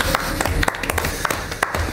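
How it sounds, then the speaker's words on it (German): A small group at a tabletop role-playing game session breaks into brief applause, with a quick scatter of claps that fades near the end. "Applaus."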